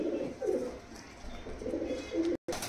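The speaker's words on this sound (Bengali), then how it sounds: "এই দুটো হচ্ছে গিয়ে আমাদের বাংলাদেশের মানে ফেমাস পায়রা, জাকির মল্লিক সাহেবের গোলালাল পায়রা।" Two pigeons of a well-known Bangladeshi breed at a pigeon seller's, cooing in soft, repeated low rolling phrases with short pauses between them. The coos are faint and close, and no one speaks.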